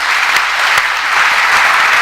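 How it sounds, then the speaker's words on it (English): An audience claps in steady, dense applause throughout, loud and close, with no speech over it. "getting a lot of claps this morning"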